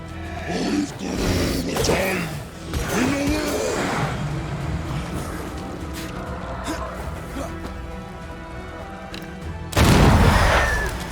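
Gunshots from an undead corpse firing at the player in Banishers: Ghosts of New Eden, a few loud booming reports among roaring game sound, with a heavy blast near the end.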